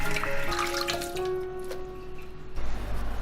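Dried shiitake mushrooms and wood ear fungus are rinsed clean under a running kitchen tap, with close splashing water that swells louder near the end and no voices.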